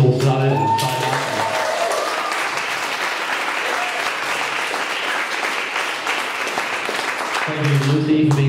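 Applause from an audience at a stairwell concert, a loud sustained wave of clapping with crowd noise, bracketed by a speaking voice at the start and end.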